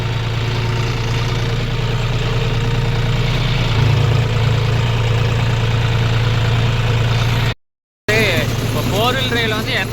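John Deere 5050D tractor engine runs in a steady, even drone throughout, with someone talking over it and a brief cut in the sound near the end.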